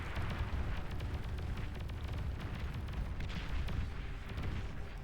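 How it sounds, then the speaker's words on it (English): Artillery fire in the real-time strategy game Beyond All Reason, a dense, continuous rumble of overlapping booms and impacts at steady loudness throughout. "There's some artillery hitting."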